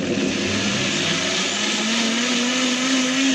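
A blender whizzes tomato sauce for a cast iron skillet pizza, a loud continuous motor whine that rises slightly in pitch as it runs.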